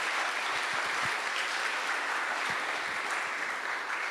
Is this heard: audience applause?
yes